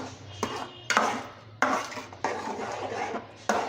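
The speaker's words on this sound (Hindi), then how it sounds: "अब हम दोबारा से इसकी भुनाई करेंगे।" A spoon stirs semolina halwa with sugar as it roasts in a kadhai, making about six sharp metallic scrapes and knocks at an uneven pace, each trailing into a soft gritty shuffle.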